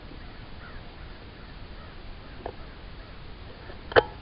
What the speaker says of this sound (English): Crows are happy.